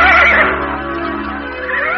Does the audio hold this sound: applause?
no